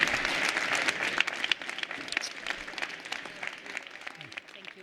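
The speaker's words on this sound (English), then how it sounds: "applause" After a speech at a climate finance conference on the Paris agreement, an audience's clapping starts strong, then thins and fades, with scattered individual claps and faint voices under it toward the end.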